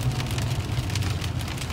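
Rain falls on a chilly autumn day in Ohio, temperatures in the mid-40s, as a steady, even hiss of drops continues without pause and with no voices.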